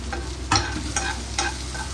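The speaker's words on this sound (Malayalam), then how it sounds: "സവാളയാണ്, ഒരു സവാള ഇട്ടത്" Chopped large onion frying in a pan, a steady close sizzle broken by a few louder stirring scrapes, no voices.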